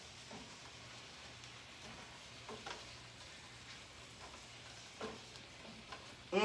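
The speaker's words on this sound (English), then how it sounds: "let me just saute this up" Ingredients for a shrimp, sausage and crab étouffée sizzle in a pan with a soft, steady hiss, faint and even, broken by a few light stirring scrapes.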